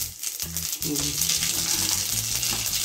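Fenugreek and mustard seeds crackle and sizzle in hot oil in a kadai, a steady close frying hiss with faint speech-like murmurs beneath, no clear words spoken.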